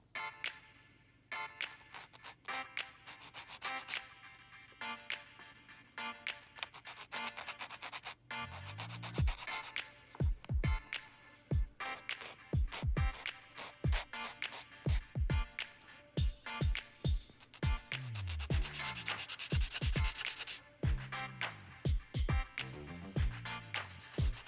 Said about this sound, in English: I can tidy it up with the sanding sticks. So I'll start off with the coarse one just to get the bulk of it down